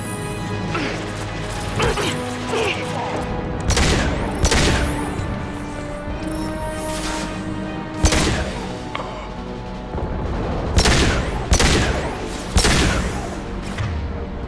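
Repeated gunfire in the video game Mass Effect 2: a handful of loud, sharp shots and impacts spaced a second or two apart over a continuous layer of game sound and tones.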